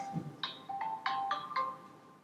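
A mobile phone ringtone goes off indoors during a talk, a short run of bright repeated electronic tones in quick succession, fairly clear over a quiet room.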